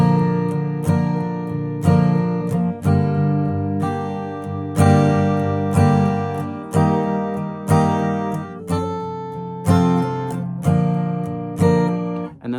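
Strummed guitar chords for a song, loud and close, with regular strokes falling about every second and ringing briefly between them, no voice.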